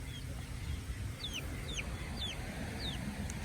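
Young chickens, about 27 birds, give scattered soft clucks and chirps in the dark during evening chores, faint over a low steady background hum.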